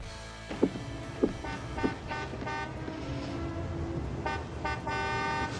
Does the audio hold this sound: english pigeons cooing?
no